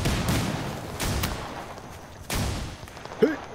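Shotgun fire in a Total Conflict: Resistance match: a few broad booming blasts spaced apart, each with a short ringing tail, with a faint voice near the end.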